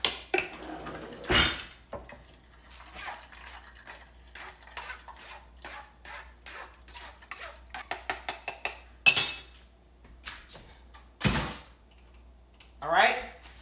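Metal spoon scraping and clinking against soft watermelon flesh in a bowl while juicing, a series of short irregular scrapes and taps up close, with a few louder knocks and some background rustle.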